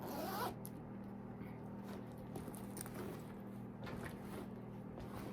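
A zipper on a Relic purse is pulled open, giving quiet, close rasping zip strokes in several short bursts against a low background hum.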